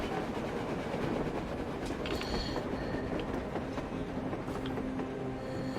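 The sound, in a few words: train moving on surface in Metro Exodus video game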